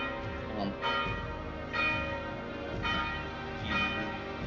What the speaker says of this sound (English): the noise of that church bell is actually drowning out the sound of this combat